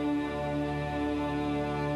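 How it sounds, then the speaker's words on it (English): Yves Klein's Monotone Symphony, a full orchestra sustaining a single chord-like note, steady and unchanging, heard as a continuous drone. "The sound you're hearing is the sound of a symphony Klein orchestrated, a whole orchestra, just one note."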